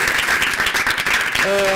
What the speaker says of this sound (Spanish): vamos a darles un aplauso y agradecerles muchísimo su experiencia